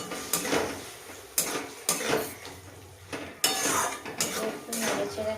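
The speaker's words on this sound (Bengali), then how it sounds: "দিয়ে এবার একটু নাড়িয়ে নেবো" Food stirred in a pan after soy sauce goes in, with sharp clinks of a utensil against the pan at irregular intervals, close and moderately loud, under a faint background hiss.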